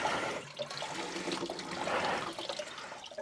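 Coolant pours and splashes steadily out of a vehicle's cooling system during workshop repair work, a continuous close gushing, trickling flow with no talk.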